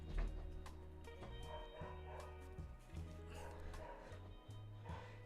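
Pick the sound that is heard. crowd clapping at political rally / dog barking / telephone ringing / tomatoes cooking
dog barking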